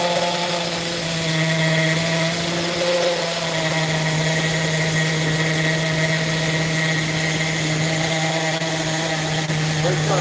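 A Kyosho GT1 nitro RC car's small high-revving engine runs steadily with a buzzing, whiny drone that holds a constant pitch, heard close up.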